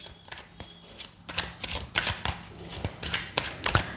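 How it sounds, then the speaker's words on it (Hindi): Tarot cards being shuffled by hand, crisp riffling bursts and soft slaps in an uneven rhythm, close and fairly quiet with no talking. "यहाँ पर कुछ हम स्पेसिफिक कार्ड्स पुल करते हैं"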